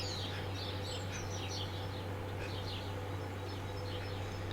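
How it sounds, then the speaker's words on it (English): Birds chirp and twitter in a cold woodland, short bright calls repeating in scattered bursts over a steady low hum, moderately distant and without talk. "Birds made their noises and I hadn't seen anything unusual."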